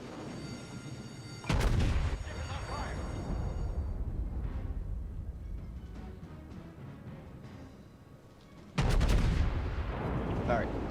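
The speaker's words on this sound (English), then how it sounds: "Let's go ahead and shoot off another salvo." In a naval video game, the battleship North Carolina fires a gun salvo, two heavy booms several seconds apart, each followed by a long rumbling roar that fills the clip.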